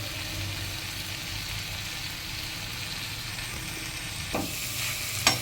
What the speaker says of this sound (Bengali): হাই ফ্লেমে ভালো করে মশলাটাকে ভাজবো